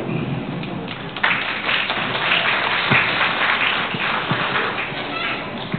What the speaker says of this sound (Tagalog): Pwede po tayong pumalakpak kay Mark.